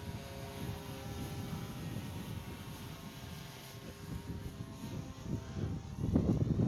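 A radio-controlled model airplane flies at an outdoor flight festival in strong wind, its faint motor drone buried under steady gusty wind rumble that rises toward the end.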